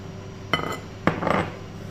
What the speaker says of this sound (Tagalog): i-mix ko na guys yung ating butter at biscuit